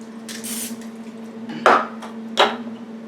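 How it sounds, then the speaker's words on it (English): Two short hissing bursts of olive oil cooking spray aimed into a pan, close by, over a steady low hum. "I'm going to use a little bit of olive oil and spray in here"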